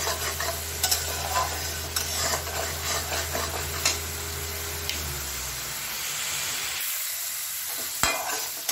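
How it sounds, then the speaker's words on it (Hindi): Onions fry and get stirred in a pan for paneer butter masala, a busy close sizzle with repeated scraping spoon strokes, the hiss thinning out partway through and a sharp clink near the end. "जब तक ये प्याज का कलर चेंज ना हो जाए तब तक हम इसे चलाते रहेंगे"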